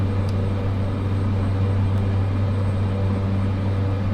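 A Cessna 208 turboprop drones steadily in flight, a loud low engine hum with a continuous rumbling tone heard from inside the cabin, unbroken and with no talk.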